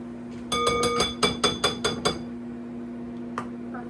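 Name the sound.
scraping Dijon mustard off a spatula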